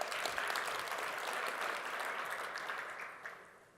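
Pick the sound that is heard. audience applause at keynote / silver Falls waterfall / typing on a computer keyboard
audience applause at keynote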